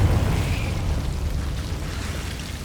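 A Confringo fire-blast spell explodes in Hogwarts Legacy on PS5, a loud, dense low boom that rolls on for a few seconds and slowly fades.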